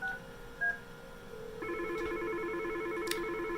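Yealink T46 desk phone dialing an extension: a few short keypad tones, then a steady dual-tone ringback that holds, quiet and close with no talk.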